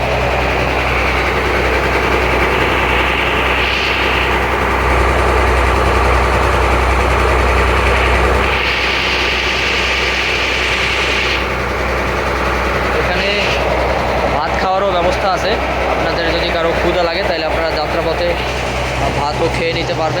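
A small river launch's engine room on a Barishal–Bhola river route, its engine running with a loud, steady low rumble and mechanical clatter throughout, a voice speaking over it.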